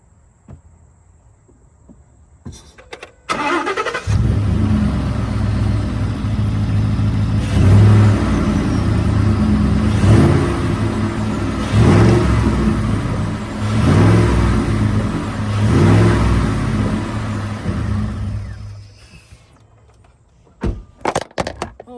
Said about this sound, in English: Let me give it a couple revs for you.